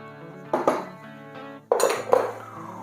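Veal pieces returned to a pot of blanquette sauce, with several clanks and scrapes of utensils against the metal pot in two bursts, close and fairly loud.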